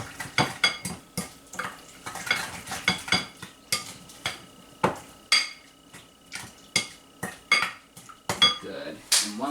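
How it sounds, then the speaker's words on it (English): A spoon stirs ingredients together for a light breakfast dish, clinking repeatedly against a bowl in an uneven rhythm of sharp metallic taps, close and fairly loud, with no talking. "we're just going to take my spoon here and we're just going to stir this all together"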